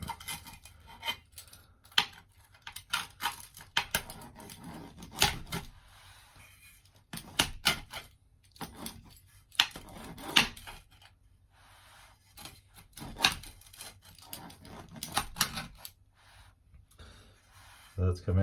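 A knife or cutter scrapes and clatters intermittently through a Mexican pizza pressed tight in a metal pan, with irregular sharp knocks and rubbing strokes, quiet and close, under occasional talk.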